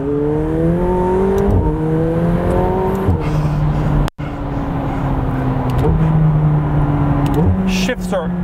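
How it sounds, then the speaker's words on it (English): A McLaren 720S driven around a bend, its engine droning loud and close with rising pitch sweeps through gear changes and a turbocharger whistle, while a person talks over it. "the turbo note, the whistle from the turbochargers is one of the coolest sounds"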